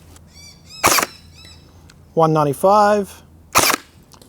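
A Zius BK-1S Nerf AEG blaster fires darts in sharp, loud single cracks, three shots spaced apart, with a spoken number called out between them.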